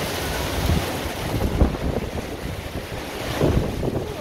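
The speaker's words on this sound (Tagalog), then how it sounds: "Grabe ang hangin, guys, oh." Strong wind roars and buffets the microphone steadily, with louder gusts swelling at moments; no voices, just a continuous blustery rush.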